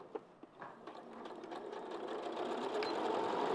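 A domestic sewing machine stitches a fabric seam with a steady, fast mechanical whirr that builds gradually in speed and loudness, heard close up with no talking.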